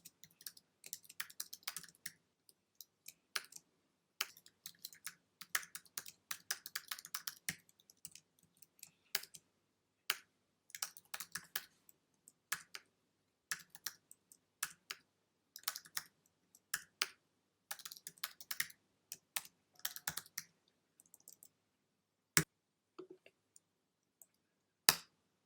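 Typing of a search query on a computer keyboard, with sparse bursts of light key clicks and pauses between them, faint and close, with no talking.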